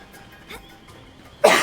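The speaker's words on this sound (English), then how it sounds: "Apologies for the cough." A single sharp cough bursts out close to the microphone at the end, preceded by quiet breaths and faint background sounds.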